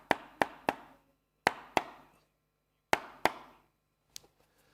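Sharp taps on 230 GSM marble cardstock land in quick pairs and triplets with short pauses between, each a crisp, close snap with a brief papery ring, ending with a few faint tail taps.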